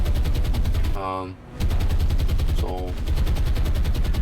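Naval gunfire from warships in the War on the Sea video game, a steady rapid stream of booming shots with a short break, while someone speaks briefly over it.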